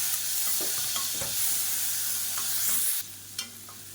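Onion, garlic and tomato sautéing in a pan with a continuous close sizzle and scraping stirs of a spoon, the hiss dropping abruptly near the end followed by a light clink.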